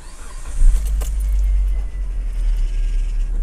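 A Mitsubishi Lancer IX with the 1.6 4G18 engine turns over and settles into a deep, close, steady rumble, with a brief louder surge near the start and faint clatter on top, with no speech.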